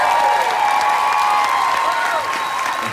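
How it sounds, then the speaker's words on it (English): An audience applauds a brave young man at a Wine, Women & Shoes event, with steady, dense clapping throughout and faint voices or cheers mixed into the crowd noise. "This brave young man deserves a round of applause."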